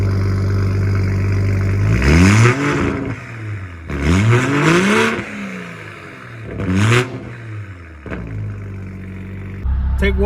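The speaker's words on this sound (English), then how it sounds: "Take one of the new Supra sound with the Catless downpipe." A 2021 Toyota GR Supra with a Sila Performance catless downpipe idles loudly up close, then snaps through three sharp revs, each rising quickly and falling back to a rumbling idle.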